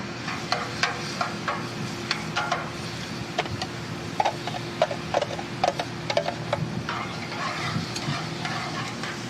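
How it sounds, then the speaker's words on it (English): Chicken sizzles steadily on a hot grill, a continuous crackling hiss with scattered sharp pops and ticks; no talking. "I don't know if you can hear the chicken sizzling."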